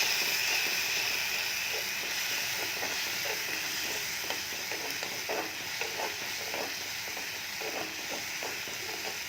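Spices are frying in sizzling oil in a pan while cooking paneer kofta curry, giving a continuous bright hissing sizzle with soft crackles and pops throughout, close up and steady, with no talking.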